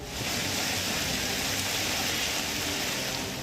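Heavy monsoon rain during flooding in India, a steady, dense hiss of downpour with no breaks, moderately loud and even across the whole stretch.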